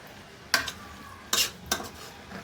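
Eggs cooking in a curry in a pan, a soft low sizzle broken by a few sharp spatula scrapes and clinks against the pan, three distinct stirring strokes spaced apart.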